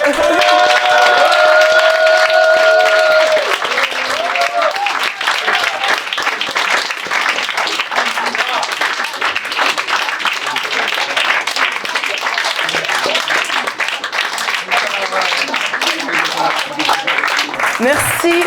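Sustained audience applause at a book launch event, many hands clapping continuously for a long stretch, loud and close, with a musical tone and voices at the start before the clapping dominates.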